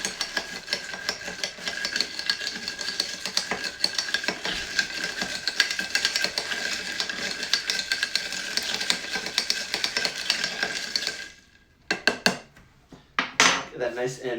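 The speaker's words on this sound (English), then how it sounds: "now I'm going to give this a nice little stir" A Corn 'n Oil cocktail is stirred in a glass: rapid, steady metallic clinking and rattling of spoon and ice for about eleven seconds, close and moderately loud, then a few separate clinks after a short pause.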